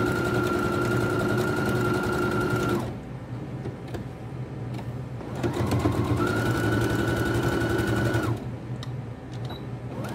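A sewing machine runs in two long bursts of steady, close mechanical whirring while stitching a half-centimetre seam on a triangular zip pouch, with a quieter pause between the runs and no talking.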